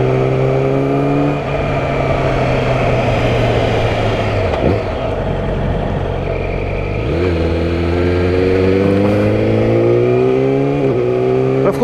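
A warmed-up 2019 Yamaha R6 sport bike with an Akrapovic exhaust runs steadily nearby, its engine droning and then dipping and climbing in pitch through several gear changes while riding.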